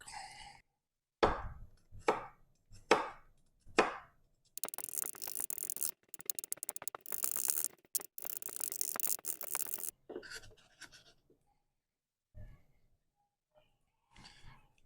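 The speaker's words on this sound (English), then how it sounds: "I'm going to chop these up" A knife chops garlic cloves on a cutting board in short bursts of rhythmic strokes, close and fairly loud, with a longer run of dense chopping in the middle before it tapers to scattered taps and quiet gaps.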